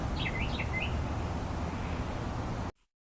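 An animated bird gives a quick run of high warbling chirps near the start, over a steady, noisy background hiss that cuts off abruptly near the end.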